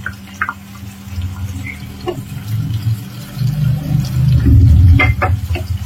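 Water pours steadily into a pan of mutton curry, a low churning gush that grows fuller and louder toward the end, with a few light clinks and drips.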